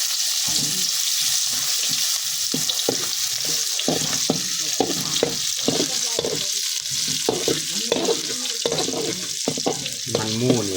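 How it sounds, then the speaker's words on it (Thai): Pounded chili and garlic stir-fry in hot pork fat, a loud continuous sizzle broken by rhythmic scraping and clattering strokes of a spatula against the pan, close up and without talk. "ตำมะพริกกระเทียมสีมาพัดใส่มันหมูเอา"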